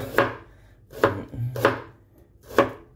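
A kitchen knife slicing through food on a board, four crisp, evenly spaced cuts close up with quiet gaps between them.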